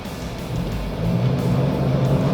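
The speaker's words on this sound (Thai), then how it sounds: "เดี๋ยวผมจะลองเยียบคันเร่งดู" A car engine revs as the throttle is pressed with a TORQUE AIR electric throttle controller fitted, a steady loud drone that rises slightly and holds for a couple of seconds.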